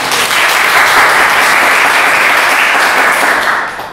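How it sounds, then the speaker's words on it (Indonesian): Audience applause for two guests at a school talk-show event, a dense, steady wash of clapping that fills the clip loudly and tapers off slightly at the end. "tepuk tangan buat mereka berdua."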